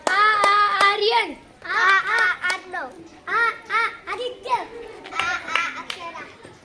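Schoolchildren clap out a rhythm during a Marathi letter-and-name game in a Zilla Parishad school classroom, quick distinct claps breaking through close, lively group chanting by young voices.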